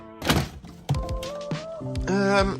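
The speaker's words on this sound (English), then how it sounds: "now I can get the fuel tank out." A fuel tank being worked loose and pulled from beneath a damaged car, giving a few heavy close thunks and clunks followed by sustained metallic squeaking and scraping.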